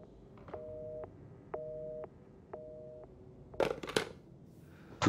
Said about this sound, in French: on n'a personne au bout du fil, juste la tonalité